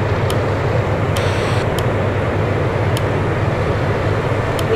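Air India Airbus A350-900 jet engines in Real Flight Simulator roaring steadily at close range during the takeoff roll, a constant dense rumble with faint brief clicks, no talking.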